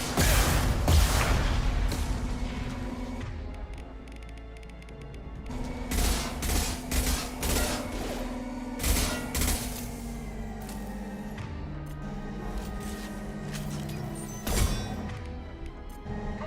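Heavy gunfire fighting a gunship in Mass Effect 2, with constant rattling shots and booming impacts over a low droning hum, loud and continuous throughout.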